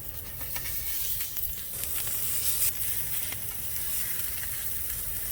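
Salmon burgers sear on oiled soapstone over a Kamado Joe grill, giving a steady, close, dense sizzle and hiss that stays even throughout.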